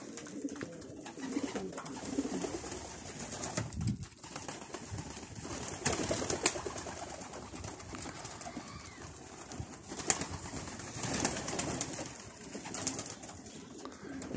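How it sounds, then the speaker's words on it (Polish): Flight pigeons from Germany coo in repeated low, throaty phrases close by, with occasional wing flutters and shuffling among the birds over a quiet background, no speech. "to są gołąbki lotowe. Bardzo grzeczne, oswojone."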